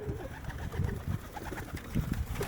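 Pigeons coo softly in a small loft, several low, rolling calls repeating close by over a quiet background.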